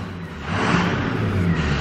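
Ford F350 pickup with a 6.0 Powerstroke diesel engine revving inside a warehouse, a steady low rumble that swells and holds louder midway through, close and continuous with no talking.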